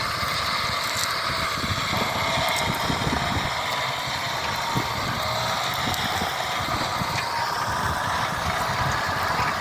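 A John Deere tractor engine drones steadily nearby while pulling a Lemken Euro Diamant 8 plough, a constant rumbling idle with a buzzing mechanical hum that never lets up.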